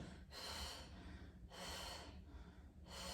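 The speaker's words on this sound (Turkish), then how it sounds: "Görüyorsunuz nefes nefeseyim" Heavy, rhythmic breathing from a person during a pregnancy pilates exercise session, with three loud, close breaths in a row and no talking.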